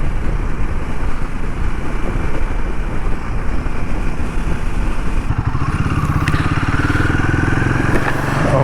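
Royal Enfield Himalayan 450 motorcycle on a test ride, a steady engine drone and road rumble throughout, with the engine note rising and growing more prominent in the last few seconds; close and continuous, no talk.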